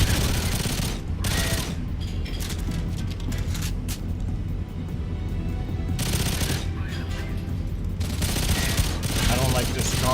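Bursts of automatic gunfire in a video game, loud rapid volleys that stop and restart with short pauses between, while a player talks over them.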